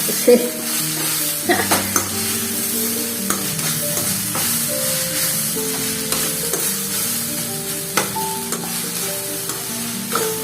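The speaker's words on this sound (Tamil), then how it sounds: "இட்லி நல்லா சூடாகிற வரைக்கும் வதக்கி விட்டா போதும்" Idli upma sautés and is stirred in a pan, with a steady sizzle under repeated scraping and clinking of the spatula against the pan, loud and near, no talking.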